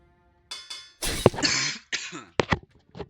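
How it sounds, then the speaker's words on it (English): Several harsh coughs in a row, close and fairly loud, with short pauses between bursts. "Apologies for the coughs, by the way."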